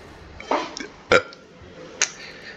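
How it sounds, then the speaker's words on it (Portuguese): A man burps close to the microphone, one short throaty eruption in the middle with brief vocal bits around it and a sharper blip afterward. "Porque eu vou arrotar."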